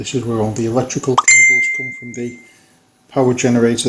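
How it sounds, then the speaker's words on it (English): A phone's message notification chime rings out as a bright, sustained electronic tone amid a man's speech. Talk resumes after a short quiet gap. "That's just my phone. I've got a private message"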